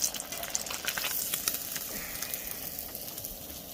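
Fish frying in hot oil sizzles with a dense, crackling hiss, loudest at the start and then steady and close.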